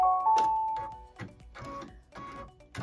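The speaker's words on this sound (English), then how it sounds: "it's also stitching that piece of fabric down on the one side for us" A sewing machine stitching down a piece of fabric on a pieced quilt block, running in short bursts of rapid mechanical whirring separated by brief pauses.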